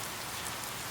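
Steady rain falling on a surface, a dense, even hiss of raindrops with no pauses or talk, close and moderately soft throughout.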